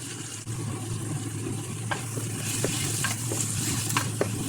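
Green chilli, ginger and garlic paste sautés for peas pulao, a steady dense sizzle with scattered light taps of a stirring spoon, close and unbroken by speech.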